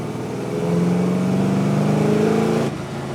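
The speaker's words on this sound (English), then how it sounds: "so hard to beat a lightweight car with a big V8 engine." A lightweight car with a big V8 engine revs hard and close, its deep growl climbing in pitch for about two seconds before the throttle abruptly drops off.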